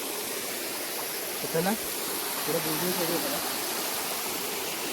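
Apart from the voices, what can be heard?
waterfall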